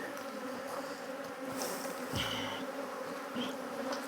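Honey bees buzz steadily around an open hive in early spring, a dense continuous drone with individual bees passing close by now and then.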